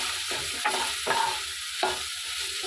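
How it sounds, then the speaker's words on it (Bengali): Turmeric being stirred into a frying onion-free chilli spice paste for a prawn dish: steady close sizzle with a few scraping stirs of the spoon, no talk. "তো হলুদটা দিয়ে বেশ কিছুক্ষণ নাড়াচাড়া করে নেব।"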